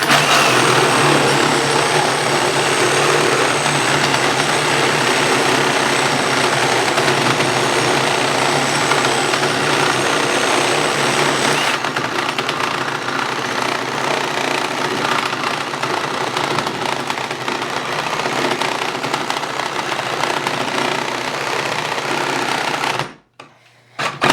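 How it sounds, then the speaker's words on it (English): A Ryobi brushless reciprocating saw, model P517, runs loudly and close for over twenty seconds with a steady buzzing drone. Its tone shifts partway through before it cuts off abruptly near the end. "That felt quite a bit slower than the brushless saw, and it stalled a couple of times."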